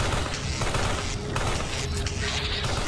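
Gunfire in the video game Carrion, a dense, loud barrage of overlapping shots and booms filling the whole stretch without a pause.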